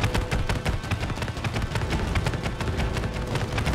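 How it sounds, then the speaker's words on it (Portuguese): Dense, rapid gunfire in the video game It Takes Two rattles on without pause, loud and close, with bursts overlapping into a constant barrage. "eu tô tomando muito tiro!"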